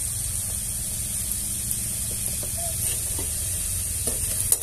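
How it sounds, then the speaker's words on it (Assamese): Onion and chili frying in oil with turmeric, a steady close sizzle running throughout with light stirring scrapes and a louder crackle near the end. "এতিয়া পেঁয়াজ আর জলকিয়া তেলত অল্প ভাজি লো"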